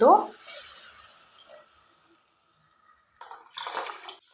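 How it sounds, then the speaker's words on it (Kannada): Water is poured into a pot of Karnataka-style bath cooking with field beans (avarekalu), fresh peas and tomato. A brief splash comes at the start, then near-silence, then a second short pouring burst near the end. "ಈಗ ನೀರು ಹಾಕ್ಕೊಳ್ಳೋಣ ಒಂದಿಷ್ಟು"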